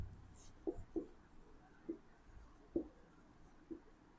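Chalk or marker tapping and scratching on a classroom board as a teacher writes, a few separate faint strokes spread over several seconds in a quiet room.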